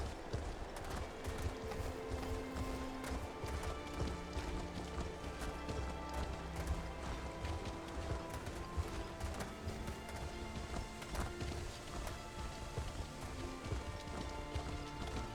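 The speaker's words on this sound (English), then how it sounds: "Let's call my horse," Quiet, rapid hoofbeats of a galloping horse in the video game The Elder Scrolls Online: Morrowind drum steadily throughout, a rhythmic clip-clop over faint background noise with no voices.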